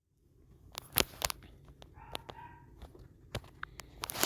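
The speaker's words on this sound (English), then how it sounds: "sorry for if my dogs are barking in the background." Dogs barking in the background of a quiet room, a handful of sharp, scattered barks and yelps of varying loudness, with a brief whining call in the middle.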